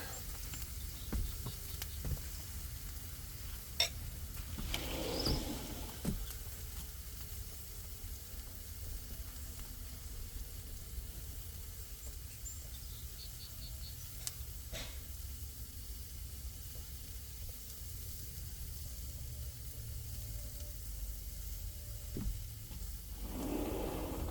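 Potatoes frying on an outdoor griddle for the first cook after winter, a steady soft sizzle and hiss with faint crackling pops running throughout, no talking.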